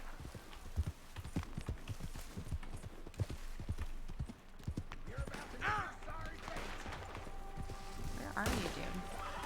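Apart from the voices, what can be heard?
horse galloping in a video game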